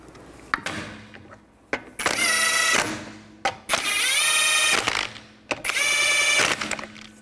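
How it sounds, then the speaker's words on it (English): Impact gun or power ratchet running lug nuts back onto a Toyota Sienna rear wheel, three close whirring bursts about a second long each, separated by clicks and short pauses. "Put the wheel up. And put the lug nuts back on."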